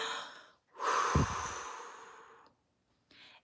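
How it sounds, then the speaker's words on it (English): A deep, audible breath drawn in and let out slowly during a children's song about feeling angry, loud and close, followed by a brief shorter exhale after a pause. "If you're angry and you know it, take a breath."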